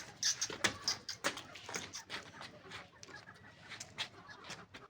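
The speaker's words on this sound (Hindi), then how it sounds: "असील मुर्गी है वो इस टाइम अंडों पे बैठी हुई है।" Aseel hens and a rooster clucking in a backyard coop where a hen sits on eggs; a busy run of close, choppy clucks and scratchy bird calls continues for several seconds with no talk.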